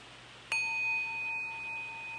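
A phone app plays a Tibetan singing bowl chime: a single soft strike, then a clear, pure ringing tone that hangs and slowly fades over quiet room noise.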